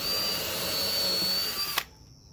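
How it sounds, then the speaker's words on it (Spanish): A power drill boring holes into pine wood with a drilling guide gives a steady, close, high whine that stops abruptly near the end. "Y ahora con la guía, desde este lado, vamos a hacer dos huecos acá."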